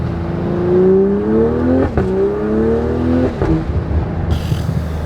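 A loud BMW Gen 3 B58 engine with a new downpipe revs up through the gears, pitch climbing then dropping at each shift, close and aggressive with a pop near the end.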